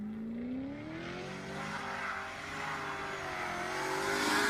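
A Rover SD1 3500 V8 revving steadily, its rising and falling engine note loud and close, swelling louder toward the end with no voices over it.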